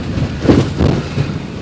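Steady rain falls on a dairy farm with cows out in the wet, a dense, even hiss that stays close and continuous throughout, with no voices.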